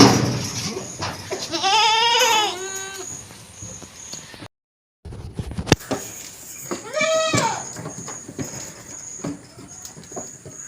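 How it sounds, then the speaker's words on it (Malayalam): A Malabari goat on a goat farm bleats loudly with a long wavering cry, goes quiet briefly, then bleats again, with faint farmyard background noise. "ഇതാണ് കൊടുക്കാനുള്ള ആട്"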